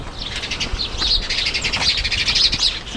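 House sparrows chirp continuously in a busy overlapping chorus, bright and fairly close, with steady outdoor background noise in Tabo or Kaza.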